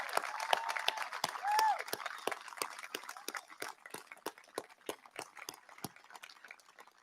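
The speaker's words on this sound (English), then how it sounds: "let's give another round of applause to all the great soldiers and civilians and contractors in the Army Garrison Command" Audience applause at an Army garrison change of command ceremony at West Point, a soft, distant patter of many hands that thins into sparser individual claps over several seconds.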